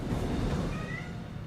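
A cat meows once in a video game, a short, fairly faint call over a steady background.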